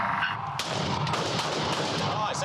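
Gunshots from police recruits at shooting training, sharp broadband reports, a few seconds apart amid a busy, noisy range with a steady background bed.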